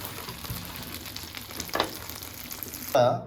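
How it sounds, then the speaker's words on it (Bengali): Fish fries in hot oil with a steady close sizzle, a brief louder burst partway through and a sharper hiss at the end, with no voices. "আপনারা ঠিক এভাবে সুন্দর করে ভেজে নেবেন।"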